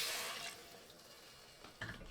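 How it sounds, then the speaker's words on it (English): Water pours into a pot of oil-coated rice as a loud splashing gush that tapers off, followed by a few smaller splashes near the end. "Then add 3 cups of water."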